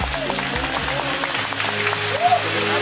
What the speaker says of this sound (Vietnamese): Xin quý vị dành một tràng pháo tay thật lớn nữa để chúc mừng hạnh phúc cho đôi bạn trẻ của chúng ta.